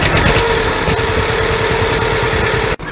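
A John Deere H tractor engine runs loud and close in a steady idle with an even, throbbing rhythm and a faint mechanical whine, then cuts briefly right at the end.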